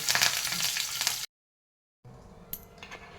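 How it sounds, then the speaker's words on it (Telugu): Cumin, mustard seeds, dried red chillies and curry leaves are tempered in hot oil, giving a loud, dense sizzle with crackles that cuts off abruptly, then resumes softer with a few sharp pops. "ఆయిల్ వేసుకున్న తర్వాత కొద్దిగా జీలకర్ర ఆవాలా, తర్వాత ఎండుమిర్చి, తర్వాత కరివేపాకు వేసుకొని"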